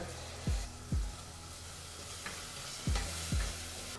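A spoon stirs a tablespoon of yogurt into hot masala for broken wheat vegetable biryani, with four sharp scraping clinks of the spoon against the pan over a faint, steady sizzle.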